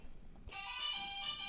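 A contestant's quiz buzzer rings out as a single steady electronic tone, starting suddenly partway through and holding to the end over faint background noise.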